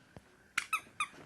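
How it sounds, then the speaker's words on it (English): A squeaky magic trick prop gives three sharp squeaks in quick succession after a faint knock, close and clear in an otherwise quiet room. "See? It squeaks."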